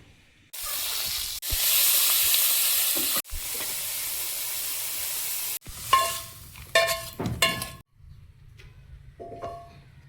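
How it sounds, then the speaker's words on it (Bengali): Prawns frying in a wok with salt and turmeric, a loud steady sizzle and hiss that cuts in and out, then clattering stirring with scattered metallic clinks. "চিংড়িটা লবণ হলুদ মিশিয়ে 1 মিনিট মতো একটু ভেজে নেব"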